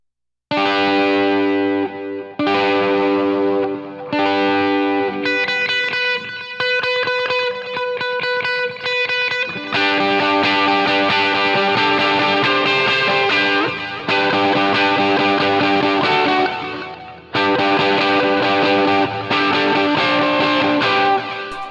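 Electric rhythm guitar strumming the same chord in different voicings, one after another, with distorted, effect-laden tone; sustained ringing chords separated by brief gaps, played alone without speech.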